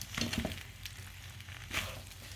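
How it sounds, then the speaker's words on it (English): Passata or marinara sauce frying in a pan on the stove, a soft, steady sizzle running through with a few louder bursts of crackle, close and alone. "giving it a little bit of a fry"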